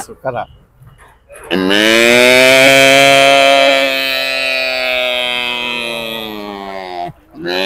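A voice imitates a calf mooing, one long loud drawn-out low bellow lasting several seconds, close up with no other sounds.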